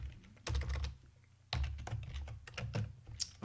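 Quick bursts of typing on a computer keyboard while entering items into a project-management web app, close and fairly quiet, in two clusters of rapid key clicks separated by a short pause.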